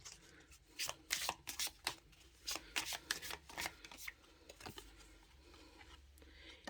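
Tarot cards being shuffled up close, with soft riffling flutters and quick papery bursts that grow busier in the middle and then trail off into quieter handling.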